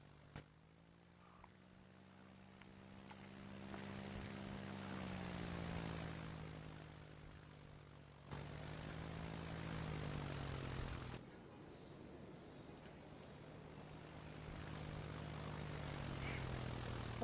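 Propeller drone of a Cessna 172 light aircraft in a Roblox flight game, a steady engine hum with rising and falling pitch sweeps, fairly quiet and continuous with brief shifts in tone.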